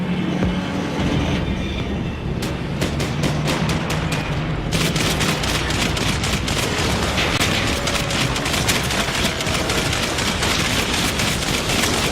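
Gunfire in a Max Payne 3 shootout: loud, rapid bursts of shots crackle across a constant roar of noise, a dense run of gunshots that gets heavier partway through, with no voices.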